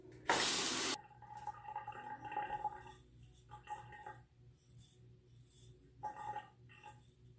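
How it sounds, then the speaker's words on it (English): A Gillette Black Beauty razor is rinsed under a running tap in a loud rush of water lasting about a second, followed by quieter splashes and clinks of the razor against the sink. "now I'll rinse the razor."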